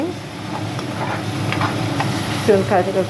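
Onions fry in hot oil for a mushroom biryani, a steady close sizzle with stirring scrapes, and a voice speaks briefly near the end.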